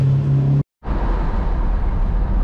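A Lincoln car cruises on the Pennsylvania Turnpike, Route 76, with a steady, loud road and engine rumble. A short cut to silence comes early, then the drone resumes.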